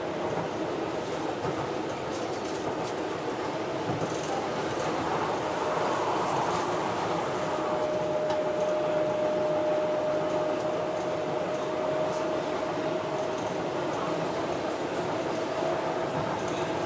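Inside a train on the London line toward Limehouse at night: a steady, loud rolling rumble of the carriage throughout, with a sustained whine rising in the middle and continuing to the end, no voices.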